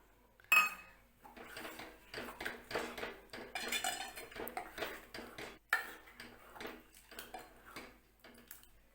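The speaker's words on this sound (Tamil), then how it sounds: "மிக்ஸி ஜாரை கழுவி அந்த தண்ணி எடுத்துக்கலாம்." A mixer jar is rinsed out in a kitchen while making Mysore sambar, with close clinks and knocks of the jar and utensils, sloshing and scraping in irregular bursts, no voices.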